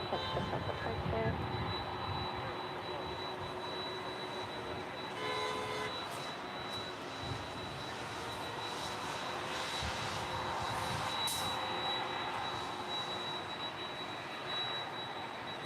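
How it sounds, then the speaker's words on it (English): An Emirates jet airliner with CF6 engines at LAX gives off a steady, distant whining roar with a thin high tone over it, faint and sustained for the whole stretch. "Those CF6 engines, so loud, so whiny."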